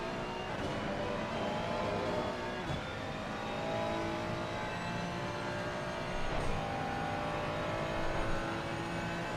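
Race car engine held at high revs on the Suzuka circuit in a sim racing game, a steady loud droning whine with small shifts in pitch, running continuously with no talk over it.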